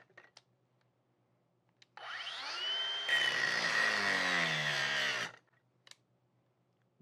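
A Ryobi brushless angle grinder cuts through material in one sustained, loud, harsh whine lasting about three seconds, with quiet pauses before and after.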